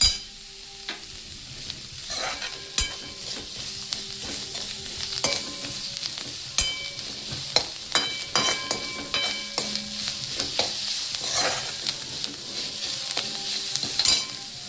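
Sambar vada filling with coriander roasts in a pan, a steady sizzling and frying hiss broken by repeated scraping stirs of a spoon against the pan.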